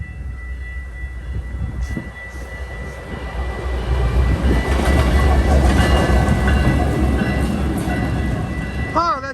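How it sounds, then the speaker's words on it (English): A lone Canadian Pacific locomotive rolls past at Sayre, rumbling closer and growing louder over several seconds, with rail clatter building into a steady loud roar. "We're gonna see a train go by."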